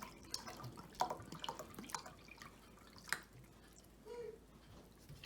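Vinegar being poured for a homemade atchara pickling solution comes through as faint, close liquid trickles and drips in short uneven spurts, with soft clinks.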